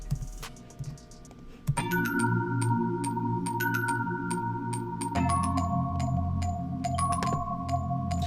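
A bright synth mallet pattern plays sustained, bell-like tones over a low droning bass, with clicky percussive hits scattered throughout.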